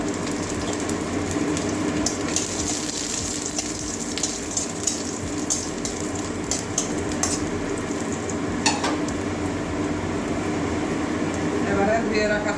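Chopped garlic and two dried red chillies sizzle in hot oil for a Bengali garlic-tempered moong dal with chickpea greens, a steady crackling frying hiss with faint stirring and utensil clinks, while someone speaks over it.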